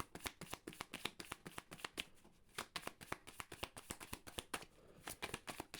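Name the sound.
tarot cards being shuffled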